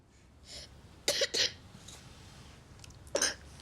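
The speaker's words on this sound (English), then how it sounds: "You've got a bit of a cough, haven't you?" A child coughs in two short bursts, then pauses before another cough, close by in a quiet room.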